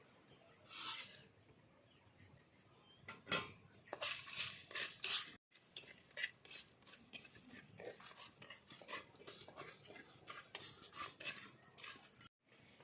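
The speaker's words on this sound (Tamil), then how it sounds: "சோம்பு மல்லி பட்டை ஜீரகம் பிரிஞ்சு இலை இது எல்லாத்தையும் வந்து நல்லா வந்து வறுத்து எடுத்துக்கலாம் பொன்னிறத்துக்கு" Fennel, coriander, cinnamon, cumin and bay leaf dry roasting in a pan, with intermittent dry rattling, scraping and clinking of spices and spoon against metal, close and uneven, no talk.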